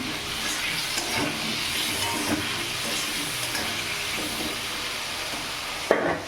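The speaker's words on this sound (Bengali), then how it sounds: "একটু লবণ দিয়ে দেবো আলুটাকে লাল লাল করে ভেজে নেবো" Steady hiss and sizzle of potatoes frying in a pan with turmeric and salt, a constant crackling wash with occasional stirring scrapes and a sharper clatter near the end, no talk.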